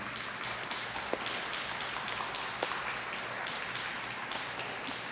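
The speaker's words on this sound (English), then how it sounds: "Please join me in giving a huge hand of applause to Eli Clare." Audience applause after a talk: a dense, even wash of many hands clapping at moderate distance, sustained throughout without voices.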